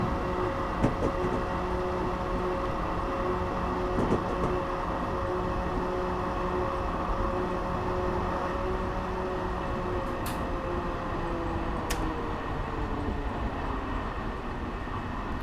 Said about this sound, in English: so I've now applied the dynamic braking, and that should bring our speed off about right